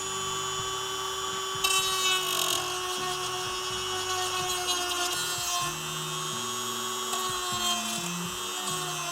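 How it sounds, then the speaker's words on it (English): A Dremel rotary tool fitted with a flat grinding burr grinds down a small plastic nub, giving a steady high-pitched whine that shifts in pitch as it bites, running continuously and close by with no talking. "This little nub right here is making the seating difficult for our replacement part, so we're gonna take a Dremel with a flat grinding burr,"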